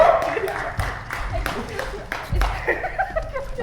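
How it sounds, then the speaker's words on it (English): An improv show audience gives a round of applause with scattered chuckles and laughter, claps bursting irregularly under loud nearby talk that continues throughout. "You get another round of applause for Pauline."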